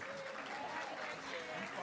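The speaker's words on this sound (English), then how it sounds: "Keep that applause going." Sustained applause from the audience at a Teacher of the Year ceremony, a dense steady wash of clapping heard at a fair distance, fairly faint and unbroken throughout.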